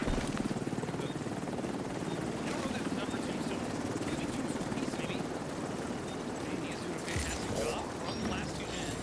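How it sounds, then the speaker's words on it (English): A helicopter in the video game The Division 2 thumps steadily with dense rotor chop, loud and continuous throughout, under game sounds and talk. "Heli kehrt zur Basis zurück."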